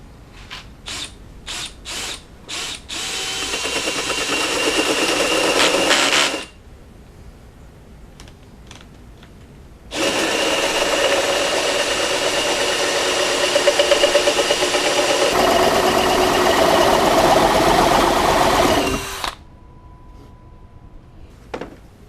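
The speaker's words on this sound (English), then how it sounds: "Take your drill." Power drill boring holes for a homemade wooden fishing rod rack: a few short clicks, then two sustained loud whirring bursts separated by a quiet pause, close up and without talk.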